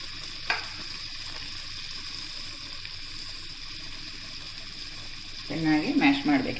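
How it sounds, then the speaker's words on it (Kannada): Potatoes and vegetables mashed in a pan for Mumbai street-style pav bhaji, a steady soft sizzle and scraping that turns into louder, busier mashing strokes near the end. "ಚೆನ್ನಾಗಿ ಮ್ಯಾಶ್ ಮಾಡಬೇಕು ಇದನ್ನೆಲ್ಲವನ್ನು."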